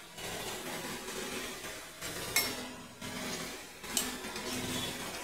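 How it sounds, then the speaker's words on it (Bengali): Fish curry with khoira fish, beans and potato being stirred in a pan, soft scraping and sloshing with two sharp metallic clinks of a utensil against the pan. "ভালো করে নাড়াচাড়া করে নেব।"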